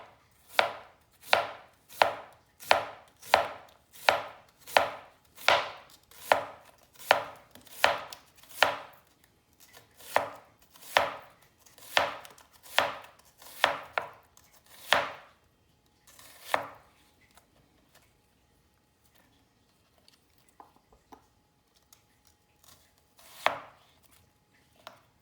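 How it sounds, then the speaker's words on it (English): A knife slices onions on a cutting board for caramelizing, about twenty crisp, evenly spaced close chops in a steady rhythm that slows and thins out into a few scattered cuts near the end. "Actually, I'm just going to slice this way."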